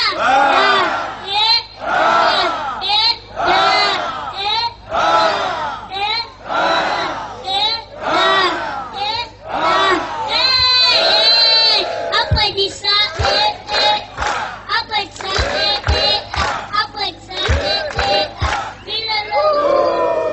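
A church congregation shouts acclamations to God in loud rhythmic unison bursts, many voices roaring together in repeated phrases, close and powerful throughout.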